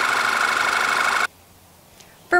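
Volkswagen Jetta with an i4 2.0 liter engine idling under the hood, heard as a loud, steady, close-up mechanical drone with a constant tone for just over a second, then an abrupt cut to near silence before a brief tonal sound at the end.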